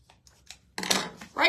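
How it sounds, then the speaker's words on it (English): Scissors cut through paper while patriotic flags on sticks are being made, with a couple of short snips close by, followed by a sharper, louder cut near the end. A voice is briefly audible. "Okay, I'm going to just cut it right here."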